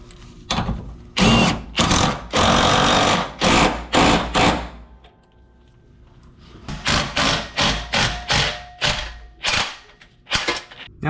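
A power tool runs a bolt down on the fuel tank strap of a Toyota Tundra in bursts of sharp, rapid ratcheting rattle, close and loud, starting and stopping in a series of short pulls with a quiet pause in the middle.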